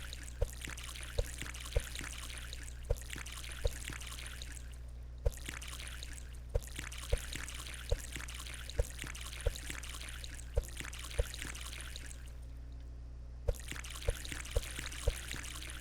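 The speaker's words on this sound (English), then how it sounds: "First things first, we need to water all the plants" Water pours steadily onto plants in the game Common 'Hood, a continuous splashing trickle broken by brief pauses, with faint regular clicks throughout.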